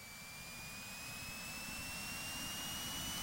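A synthesized helicopter engine from the Commodore 64 game Infiltrator revs up in a steady, noisy roar, with thin whistling tones that slowly climb in pitch as the revs build. The sound grows gradually louder throughout.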